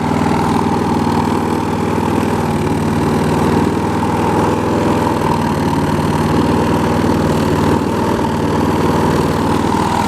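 A lawn mower engine runs steadily at idle, a loud continuous mechanical drone with no talk over it while its accelerator and failing speed variator are checked.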